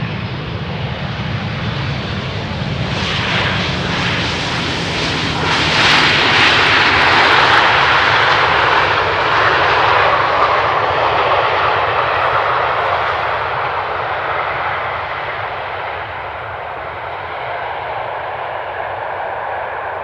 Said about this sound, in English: This is a 737-800 coming in from Dublin, from KLM, as you can clearly see.